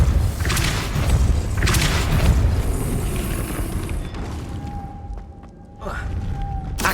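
Deep booming spell blasts from the Depulso charm in Hogwarts Legacy, two heavy thuds early on followed by sharper impacts, with faint ringing tones between them.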